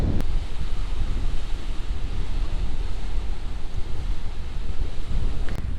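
Strong wind buffets the microphone with a constant roar while sea waves surge and crash underneath on the Greek island of Naxos, loud and continuous throughout.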